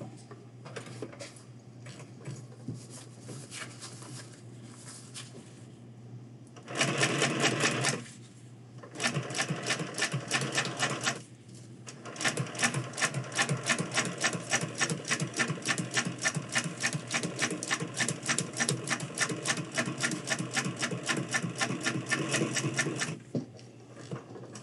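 Sewing machine top stitching a 5-panel hat: rapid, rhythmic needle clatter in several bursts separated by short pauses, close and clear, the longest run lasting about ten seconds.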